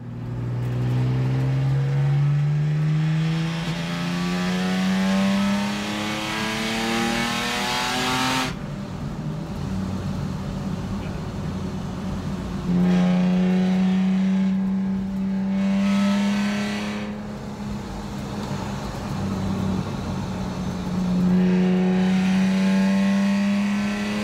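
A BMW E46 car with an ACT heavy-duty 4-pad rigid racing clutch revs hard through repeated full-throttle pulls, its pitch climbing steadily, dropping at each shift, then rising again, loud and close throughout.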